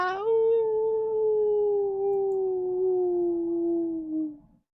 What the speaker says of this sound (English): Something is howling.